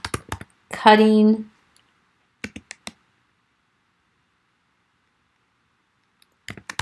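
Computer keyboard keys being tapped to type a file name, a few short close clicks in small bursts separated by silence, with a brief spoken word near the start.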